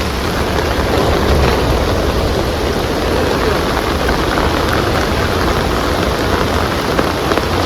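Torrential rain lashes a flooded creek during a monsoon deluge, a loud, continuous roar of drops striking water and ground, close and steady for the whole stretch with no voices.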